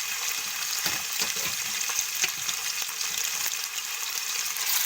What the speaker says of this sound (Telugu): నూనె కాగినాక ఈ చికెన్ అందులో వేసుకుందాం.